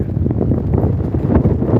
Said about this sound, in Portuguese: tá um barulhão de vento